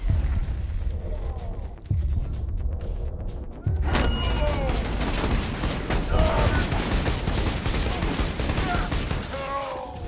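Bursts of gunfire and booming explosions from a Borderlands 2 fight in True Vault Hunter Mode at Fink's Slaughterhouse, sharp shots firing repeatedly and loud throughout, with a heavy boom about a third of the way in.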